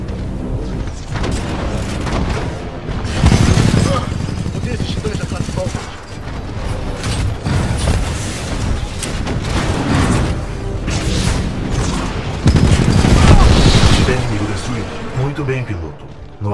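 Gunfire and explosions in the video game Titanfall 2: dense bursts of weapon fire with heavy booms during a Titan battle, loud and continuous, mixed with game voices talking over the action.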